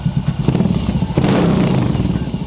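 Engine of a new BMW R motorcycle fitted with a shorter stainless steel exhaust and a 100 dB baffle, running steadily near the listener with a continuous low throbbing note that swells slightly partway through.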